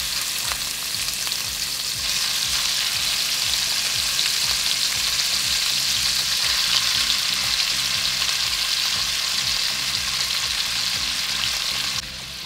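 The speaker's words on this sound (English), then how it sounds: "the beef is going in next. And I'm cooking this in batches" Beef sears in batches in a pot for a classic French beef bourguignon, giving off a loud, steady sizzle with occasional stirring and no voices.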